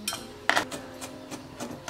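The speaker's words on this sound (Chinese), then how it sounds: "切点蒜末" Knife chopping garlic into minced garlic on a cutting board: a few sharp, separate knocks with clinking overtones, the heaviest near the middle, heard close and alone.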